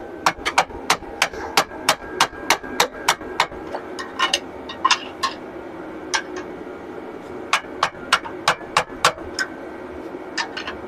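Hammer blows on metal during off-season race-car work in a garage, loud sharp strikes in quick rhythmic bursts of about ten, a pause, then another fast run, with faint room noise between.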